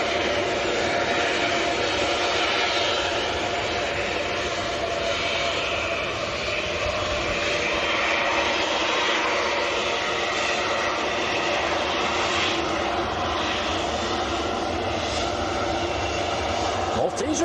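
Ryanair jet airliner taxiing toward the camera at Manchester Airport, a steady broad engine roar holding close and loud throughout with people talking faintly underneath.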